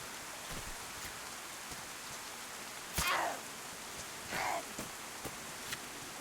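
Rain falling in the DayZ survival video game, a soft, even hiss of steady rainfall, fairly quiet, with a couple of brief louder rustling bursts and scattered light ticks on top.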